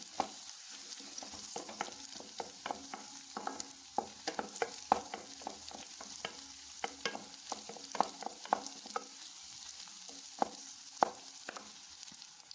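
Shallots and chillies for a chutney sautéing in a pan on a gas stove, giving a soft continuous sizzle broken by frequent quick scraping stir strokes, fairly close and moderately quiet, with no talking.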